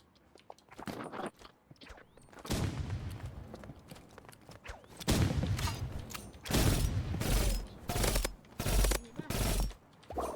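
Bursts of rapid automatic gunfire from a shooting video game, heard in several loud clusters separated by short lulls, with sharp mechanical clatter between volleys.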